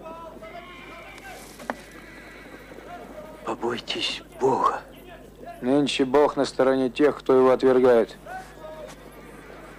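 Horses whinny in a period rural wartime scene, with several loud neighs mixed among a man's spoken dialogue after a quiet opening stretch.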